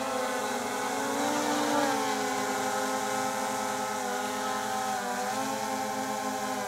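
DJI Mavic drone motors spin at maximum speed while straining to lift a weight, a continuous high whine with wavering pitch close to the listener, steady throughout.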